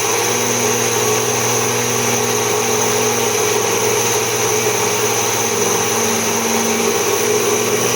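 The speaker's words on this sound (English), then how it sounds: "These India-made mixer grinders are of very good quality and they can easily last for 30-35 years" An Indian-made mixer grinder grinds wheat into flour, its motor running as a loud, continuous high whine and drone with a steady rattling buzz that holds even from start to finish, with no talking.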